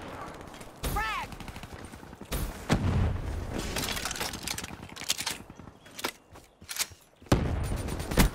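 Frag grenade blasts in a first-person shooter match on the Nuketown map, booming bursts mixed with rapid gunfire and crackling impacts, with a short voice callout buried in the chaos.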